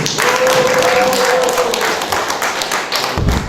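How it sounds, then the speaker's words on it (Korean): Dense, close applause from an audience at a campaign policy agreement signing ceremony, steady clapping with a brief tonal hum early on and a heavy thump near the end. "큰 박수로."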